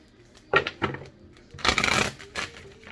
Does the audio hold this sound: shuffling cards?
yes